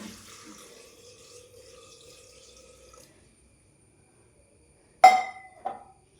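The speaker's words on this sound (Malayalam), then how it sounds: "പാകത്തിന് വെള്ളമൊഴിച്ച്" Water poured into a cooking pot of simmering lentils, tomato and onion for a home-style coconut-free curry, heard as a short loud splash followed by a smaller second pour after a quiet stretch, with faint kitchen sounds before.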